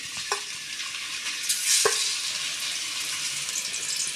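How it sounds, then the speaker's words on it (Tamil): Eggs fry in oil in a hot kadai for an egg curry, giving a steady quiet hissing sizzle throughout, with a couple of brief utensil taps near the start and middle. "கடாய் காஞ்சதும் எண்ணெயில் முட்டையை வறுக்கணும்."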